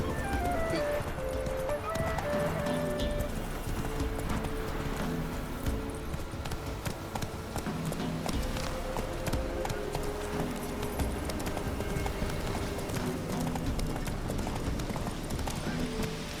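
Hooves of Roach, a horse in The Witcher video game, clip-clop steadily through the Bloody Baron quest, ringing out over a constant bed of game music and ambience, with a character's voice talking intermittently.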